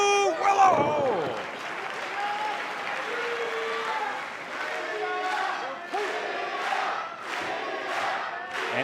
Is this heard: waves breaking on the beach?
no